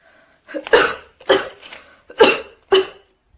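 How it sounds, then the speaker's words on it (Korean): Four sharp, separate coughing bursts, close and loud, each short and spaced about half a second apart with silence between. "누가 기침 소리를 내었어?"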